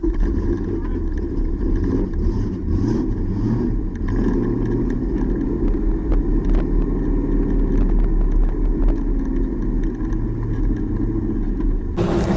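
LS V8-swapped Mazda Miata drift car during a competition battle, engine droning and revving loudly and continuously with a deep rumble, pitch shifting as throttle is worked, close and sustained with a brief drop near the end.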